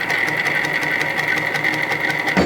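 Sewing machine running steadily while stitching doll fabric, a continuous close whirring hum with rapid needle rhythm that stops abruptly near the end.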